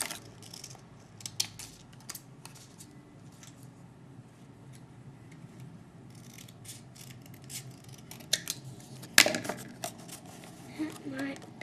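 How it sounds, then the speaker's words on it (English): Scissors snip yellow paper into a windscreen shape for a toy helicopter craft, a series of short, crisp cuts with irregular timing and one louder snap near the end, close and fairly quiet. "cut a windscreen out of this yellow paper"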